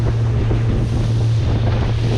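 Wind and waves buffet a Bayliner Element boat heading out in 1 to 3 ft waves offshore: a loud, constant roar of wind noise over a low steady engine drone, with no voices.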